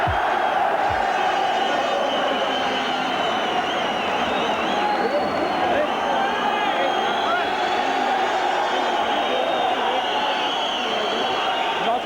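A boxing arena crowd roars after a knockout in a 1984 title fight, a loud, sustained wall of cheering and shouting with voices talking over it.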